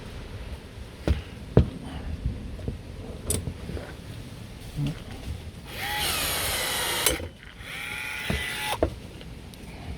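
A Milwaukee M12 cordless pop rivet gun pulls 4.8 mm by 27 mm rivets in single strokes: two whirring motor bursts of about a second each, close by, amid light tool clicks and handling taps.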